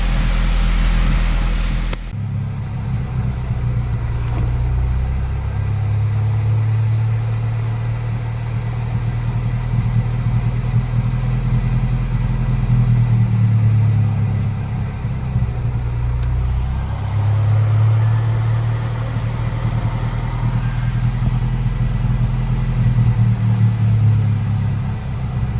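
A VW Polo 1.2 TSI with engine troubles idling steadily up close, a low droning rumble with a faintly uneven pulse running unbroken throughout.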